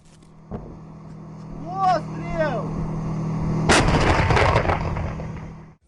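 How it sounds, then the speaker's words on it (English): A heavy tank gun blast booms out near Bakhmut, followed by a loud rumbling explosion, with an engine droning underneath and brief voices earlier. "The sound of explosion."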